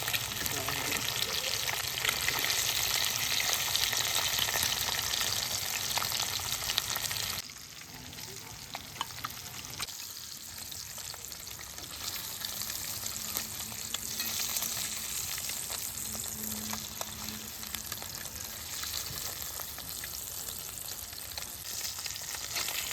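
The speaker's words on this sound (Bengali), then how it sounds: "মাছটা লাল লাল ভাজা হয়ে গেলে মাছটাকে তুলে নিচ্ছি।" Katla fish frying in mustard oil in a village kitchen gives a continuous close sizzle, loud at first and then quieter after a sudden drop, with occasional clinks and stirring.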